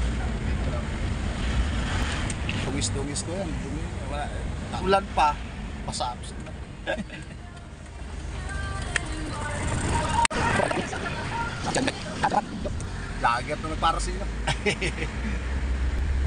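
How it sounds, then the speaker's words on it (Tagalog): A boat engine runs smoothly at a steady, fairly loud drone, with wind noise buffeting the microphone and people talking in Tagalog over it. "Iba na ang tunog ng makina. Smooth na."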